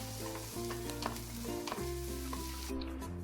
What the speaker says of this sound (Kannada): ಇದನ್ನೆಲ್ಲ ಹಾಕಿ ಫ್ರೈ ಮಾಡೋಣ